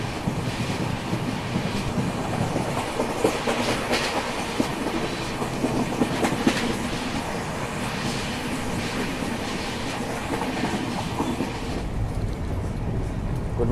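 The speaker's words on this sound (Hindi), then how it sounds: "ट्रेन अपनी 1:30 की रफ्तार में लगातार भाग रही है" Steady rumble of the Coromandel Express running on rails in India, heard from on board, with continuous clickety-clack of the wheels at speed and no talking.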